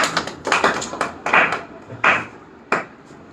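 A small group clapping at a spiritual talk on the Bhagavad Gita, a few sparse bursts of claps at uneven intervals, fairly close, with no one talking.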